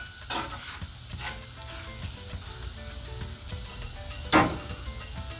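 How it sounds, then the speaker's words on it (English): NY strip steaks sizzle on a 22-inch Blackstone flat-top griddle, a steady crackling hiss throughout, close and fairly loud, with a sharper spatter burst near the end and no talk. "You hear that sizzle?"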